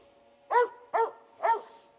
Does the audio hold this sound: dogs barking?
yes